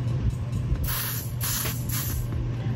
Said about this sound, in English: So I'm gonna spray it on my hand so you guys can see what it looks like when it's sprayed.